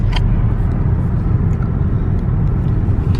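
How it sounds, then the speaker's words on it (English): From inside a car stuck in heavy morning road traffic, a loud, steady low rumble of engines and tyres fills the space, with a few faint clicks on top. "Yep, that's traffic right now."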